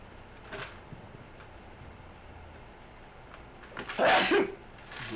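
A single sudden sneeze bursts out near the end, loud and close on a microphone, after a brief faint breathy sound earlier, during an online tabletop role-playing game session.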